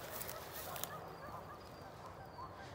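Geese honking in a forest near a small stream, faint distant calls scattered over a steady outdoor background hiss.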